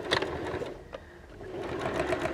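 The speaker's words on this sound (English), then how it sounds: "I'm just going to top stitch them closed" A sewing machine top stitches a fabric microwave potato bag closed, its motor whirring in a steady, fairly quiet run with a brief pause, close by and without talking.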